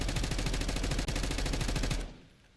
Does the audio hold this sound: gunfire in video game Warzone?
yes